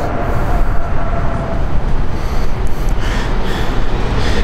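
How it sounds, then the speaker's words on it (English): A train rumbles past near a parking ramp under Broad Street in Newark, a loud continuous low roar with rattling and screeching higher tones rising toward the end. "And we have the train going by."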